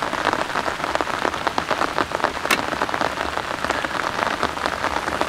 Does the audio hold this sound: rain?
yes